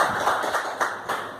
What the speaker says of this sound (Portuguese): As palmas lá bem forte no nome de Jesus por causa disso.